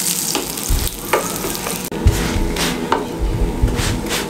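A keema paratha fries on a hot tawa while it is pressed down now and then. The sizzle is steady and close, broken by soft thumps and scraping from the pressing.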